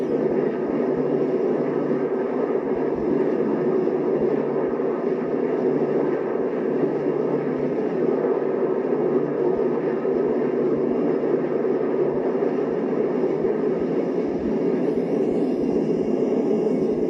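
A retro 1960s aeroplane in flight gives a steady, dense engine roar that holds unbroken and even throughout, with no voices.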